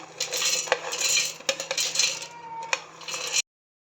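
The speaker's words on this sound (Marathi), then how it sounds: "सर्वप्रथम आपण शेंगदाणे घालून घेऊया मिक्सर भांड्यामध्ये" Dry, hard peanuts rattle and clatter into a mixer jar in a few bursts, with sharp ticks against the sides, close by and fairly loud.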